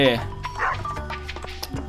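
A dog in the farming video game Stardew Valley gives a couple of short, yipping barks mixed with game music and chimes, while someone talks over it.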